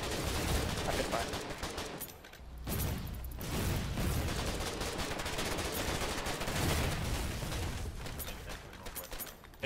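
Mortar fire in the war game Foxhole, with loud, dense gunfire and booming blasts that fill the mix almost without a break, plus short dips, and faint voices buried underneath.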